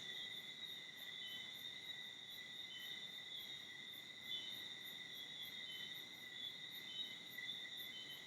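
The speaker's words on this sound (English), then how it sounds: "even though you hear crickets in the back" Crickets chirp in a steady, fast pulsing trill somewhere in the background, faint but constant, with no voices over them.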